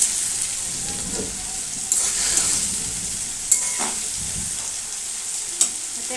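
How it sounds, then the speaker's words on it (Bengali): Onion fries in a pan while meat is being cooked, making a steady close sizzle broken by a few sharp stirring clinks and scrapes, with no talking. "ভাজা ভাজা হোক আমি যতক্ষণ মশলাটা করে নিই"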